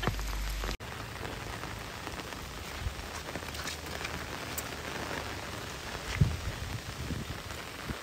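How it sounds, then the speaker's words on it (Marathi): Steady rain falls outdoors in an even, close hiss of drops striking surfaces, with a few louder splashes and no voices. "ये बारिश में आप ही भिगो. हम तो छाते में खड़े हैं, देखो."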